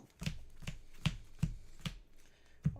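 Trading cards are shuffled at a tabletop card game match during a regional tournament, a series of six crisp riffle-like snaps in a steady rhythm, close and alone.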